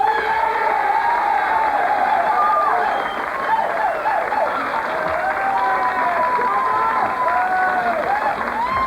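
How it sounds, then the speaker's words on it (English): Talk-show studio audience applauding and cheering to vote for a stripper troupe; loud, continuous clapping with shouts and whoops, full and close, steady for several seconds. "kindly applaud for first the Blobendale"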